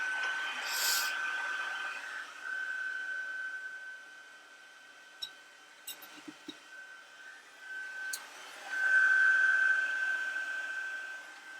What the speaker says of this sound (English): I apologize for the noise, the heat tool.